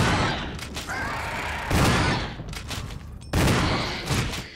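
Gunfire in the Resident Evil video game, a few loud, sharp bursts of shots standing out over a dense, noisy background.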